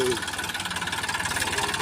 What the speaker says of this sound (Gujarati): ટ્રેક્ટર આવી ગયું છે